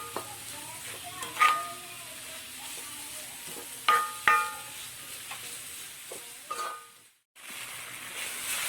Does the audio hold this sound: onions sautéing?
yes